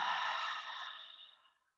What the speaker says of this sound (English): And then we just take a deep breath in and an audible exhale.